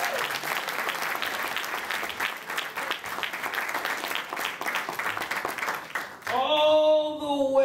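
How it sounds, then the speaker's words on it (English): A concert audience at a jazz band show applauds steadily with dense, sustained clapping for about six seconds, then a harmonic tone, likely a voice or instrument, cuts in near the end. "Please, a wonderful, wonderful round of applause for Mr."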